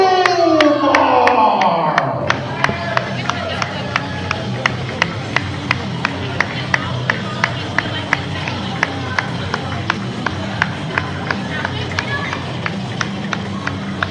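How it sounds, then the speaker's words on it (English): Steady applause from a wrestling crowd after a championship match, many hands clapping in a continuous patter with sharper individual claps standing out, rising after a brief murmur at the start. "This time the applauding you're hearing is Johnny still"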